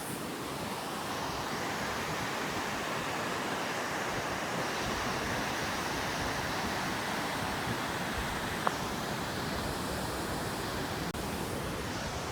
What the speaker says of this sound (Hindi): डैम खुलते पानी का लहर थोड़ी तेज आ रही है, आवाज़ सुनो बड़ी सही आ रही है